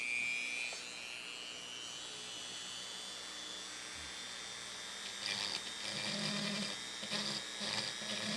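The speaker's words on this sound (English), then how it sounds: "use a Dremel with a little end on it to kind of just drill down through a little bit" A high-pitched Dremel rotary tool whines steadily throughout, drilling through welds on Toyota Tacoma chrome vent rings, its pitch shifting as it bites in bursts during the second half, with no talking.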